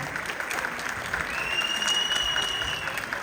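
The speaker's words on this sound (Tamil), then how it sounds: "அதுக்கு உங்களுடைய பெரிய கைத்தட்டலை கொடுக்கும்படி கேட்டுக்கிறேன்." Applause from the audience at a Pongal special debate event, a steady patter of many hands clapping throughout, fairly close and even.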